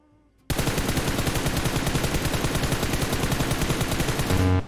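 Rapid automatic gunfire in the mobile battle game PUBG Mobile, a long unbroken burst of evenly spaced shots starting abruptly after a brief quiet moment and ending with a short ringing tone.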